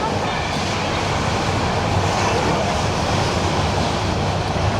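Inside a moving train travelling from Dhaka, a loud, dense, continuous rumble and rattle of the carriage fills the space evenly, with no voices breaking through.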